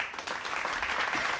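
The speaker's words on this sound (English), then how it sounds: "Can I get a round of applause?" A brief burst of applause, a quick, quiet patter of many hands clapping for just over a second with no talking.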